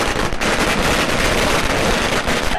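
Firecrackers set off by young people on a road in a patriotic street celebration, a loud, dense, unbroken crackle of rapid bursts filling the whole stretch without pause.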